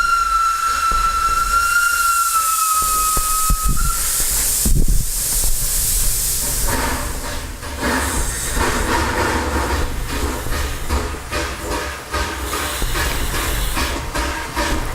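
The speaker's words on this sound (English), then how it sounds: "there were many left standing as the train started up, cars crowded, boarded," A steam train starting up, opening with a loud steam whistle, then a burst of hissing steam, then rhythmic chuffing and rolling clatter that continues, close and loud.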